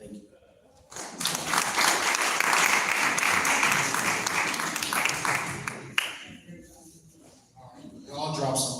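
An audience at a men's wellness summit breaks into loud, sustained applause for about five seconds, then it tapers off as voices resume talking nearby.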